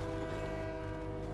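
A video game train rumbles past with a sustained horn-like tonal drone over a low mechanical roar, steady and fairly loud, with no voices.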